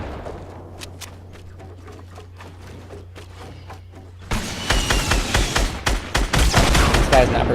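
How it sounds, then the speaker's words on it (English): Fortnite battle with a rocket launcher and gunfire: quiet ambience with scattered distant pops, then a loud burst of rapid repeated shots and explosions close by in the last few seconds. "Someone's trying to hit us from behind with a rocket launcher."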